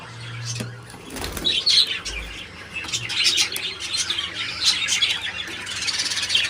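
Pet birds in breeding cages chirp and squeal in a busy, continuous chorus nearby, with bursts of wing flapping and a few low knocks from the cages.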